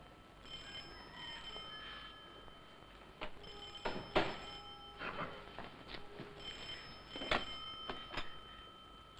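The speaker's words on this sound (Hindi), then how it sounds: "शायद तेरे कमरे का फोन बज रहा है।" An old room telephone in a 1962 film rings in several short, trilling bursts spread over a few seconds, fairly faint against a quiet background.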